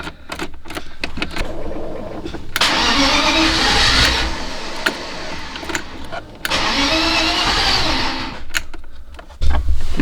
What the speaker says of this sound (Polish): I odpalmy ten samochód na chwilę.